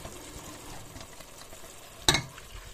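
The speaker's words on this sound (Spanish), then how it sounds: "dejamos que se sofría 5 minutillos para que se evapore el alcohol" Wine and crushed tomato fry in a cast-iron pot over medium heat, a soft, low sizzle and bubbling close by, broken once by a sharp clatter of a utensil against the pot, with no talking.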